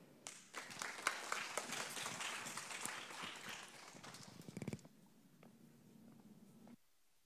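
An audience at the COSCUP 2022 open-source tech conference claps to welcome a speaker from Shopline. The dense applause lasts about four seconds, then stops abruptly, leaving faint room hum.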